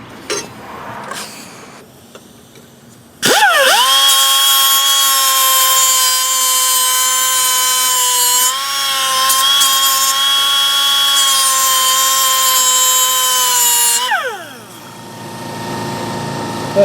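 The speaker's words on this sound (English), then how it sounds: "I just need to sharpen it right on the edges here." A power tool grinds loudly and steadily along the edges of an old lawn mower blade for about ten seconds, preceded by faint handling noise and then winding down at the end.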